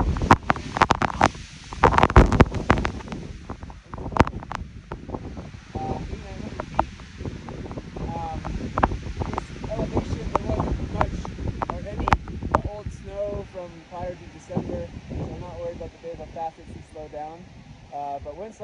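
Strong gusting wind on a snowy mountain slope beneath a rock outcrop, buffeting the microphone with a steady roar and heavy rumbling bursts, while someone talks over it throughout.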